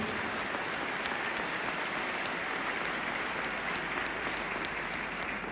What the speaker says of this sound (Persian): د دغه زحمتونو په خاطر باندې یو ښه چکچک وکړئ